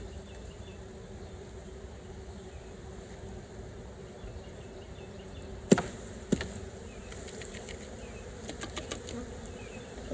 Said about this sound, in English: I'm just going to shake these bees in.